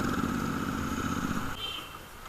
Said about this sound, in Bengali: এখন আমরা বাইকটা পার্কিং করব